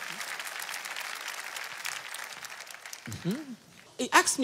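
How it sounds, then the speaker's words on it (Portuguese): Applause for Jesus Christ during a Portuguese-language testimony, a broadband patter of clapping for about three seconds, then a voice speaks over quieter clapping at the end. "Vamos aplaudir a Jesus Cristo que opera milagres?"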